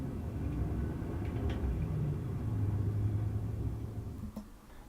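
Steady low rumble of a car interior, a constant engine and road drone with no voices.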